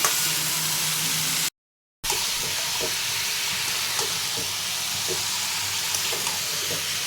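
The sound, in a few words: mutton frying and sizzling in a pan (kosha)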